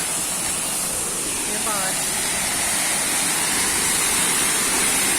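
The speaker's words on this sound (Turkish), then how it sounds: "Geçerken de bu şelaleyi gördük." Waterfall beside the road to the Ayder plateau in Rize, Turkey, giving a steady, loud broadband rush of falling water that fills the whole stretch without letup.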